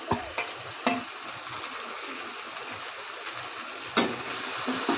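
Local tomatoes are stirred into noodles frying in a pan. A steady close sizzle is broken by a few sharp scraping knocks of the spoon, with no talk.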